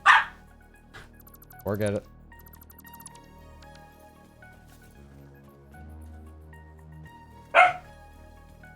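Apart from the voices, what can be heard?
dog barking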